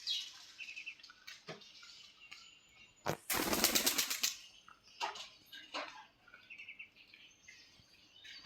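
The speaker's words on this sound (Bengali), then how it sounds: "কবুতরগুলো সবগুলো উড়ে গিয়েছে।" Pigeons taking off together, a sudden burst of loud flapping wings midway through, with scattered chirps and rustles around it in a quiet outdoor setting.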